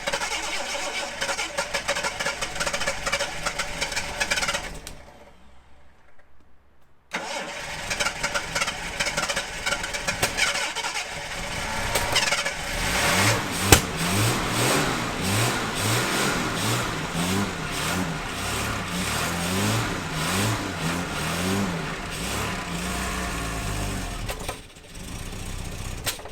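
A 1978 Jaguar XJ6 barn find, started for the first time in 24 years, cranks, pauses briefly, then catches and runs, its engine revving repeatedly in loud, near rises and falls before settling.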